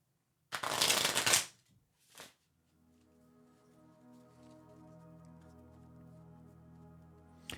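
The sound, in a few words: shuffling tarot cards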